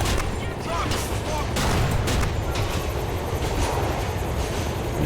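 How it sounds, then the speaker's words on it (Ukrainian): Gunfire in the crime game GTA: The Ballad of Gay Tony, a dense, continuous barrage of shots with train-like rumbling underneath, loud and steady throughout with no speech. "хто там стріляє по мені?"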